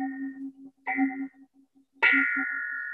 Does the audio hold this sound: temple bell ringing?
yes